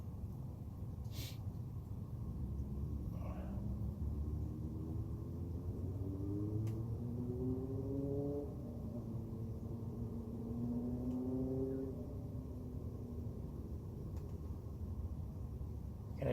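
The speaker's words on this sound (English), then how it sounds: "everyone's bringing out their cars and motorcycles and whatnots" Cars and motorcycles drive in the distance beyond a frozen lake on a sunny ice-fishing day, their engines faint with slow rising and falling tones over a low rumble.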